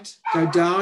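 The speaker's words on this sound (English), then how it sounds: "Apologies for my dog." A dog gives a short yip or bark close by, overlapping a voice as he gives spoken instructions during an online coding lesson.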